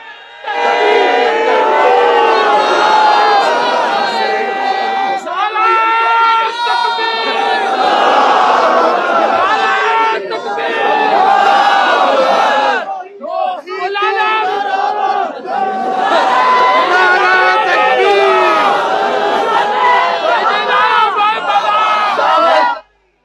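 A large crowd at a religious gathering in Gujrat chants slogans loudly in unison, in repeated surging bursts with a short lull partway through.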